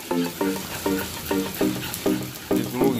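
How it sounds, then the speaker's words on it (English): Three eggs frying in a wok and being stirred, a steady loud sizzle broken by regular rhythmic scraping strokes of the utensil, close and continuous with no talking. "Crack your 3 eggs into your wok. Stir that around in your wok."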